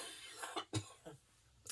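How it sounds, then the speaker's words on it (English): A single short cough, close and fairly quiet, with a faint throat sound just before it in an otherwise quiet indoor room. "Excuse me, I'm going to cough."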